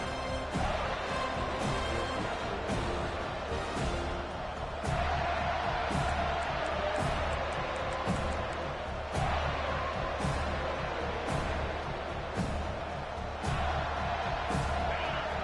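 Steady crowd roar from a stadium in a college football video game, Florida State Seminoles versus Nebraska Cornhuskers, swelling in several surges over continuous background noise while commentators talk over it.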